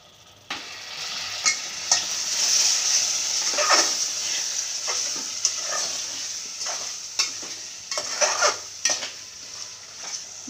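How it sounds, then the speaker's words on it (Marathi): Mutton frying in oily masala sizzles steadily and loudly, with repeated scraping and clinking of a spoon stirring it in the pan; no voices. "मसाल्याला तेल सुटलेलं आहे, आपण आता ह्यात मटण घालून घेऊ"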